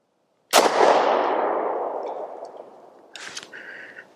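A single loud pistol shot from a Lone Wolf Arms TimberWolf 19 cracks sharply and rings out in a long decaying tail, with faint metallic clinks and rattles following near the end.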